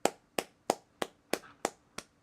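One person claps seven times in an even, brisk rhythm. Each clap is sharp and close, with quiet gaps between and no crowd or voices.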